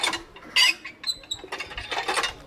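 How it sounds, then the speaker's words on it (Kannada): A village hand pump creaks and clanks as it is worked, giving a few irregular metallic squeaks and knocks close by, with no voices. "ಕೈ ಪಂಪ್ ಏನಿದ್ರಲ್ಲಿ ನೀರು ಬರುತ್ತಾ?"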